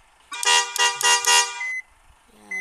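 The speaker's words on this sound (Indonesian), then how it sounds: "ini gua sudah pasang bel baru atau klakson baru" A newly installed car horn honks in four short, loud blasts in quick succession, then falls quiet before a brief tonal sound at the end.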